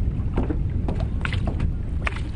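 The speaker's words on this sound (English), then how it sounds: "to a boat to cross first the calm lagoon." A boat crossing a calm lagoon rumbles steadily up close, with constant low engine and wind noise and a few soft splashes or knocks scattered through.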